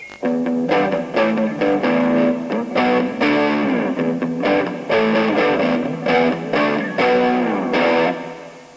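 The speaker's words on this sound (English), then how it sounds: "So you can make up a chord sequence using chords based on these notes" A distorted electric guitar plays a bluesy chord progression built from blues-scale notes in heavy metal style, strummed chords ringing steadily with rhythmic changes throughout, loud and alone.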